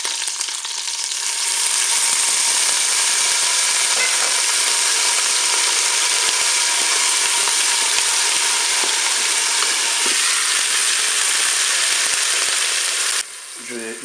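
Pork roast and onions brown in a Cookeo cooker, a loud continuous hiss and crackle that fills the pot for many seconds before cutting off abruptly near the end.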